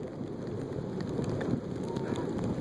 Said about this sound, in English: As you can see, it's overcast, pouring down rain, starting to change to snow at any minute.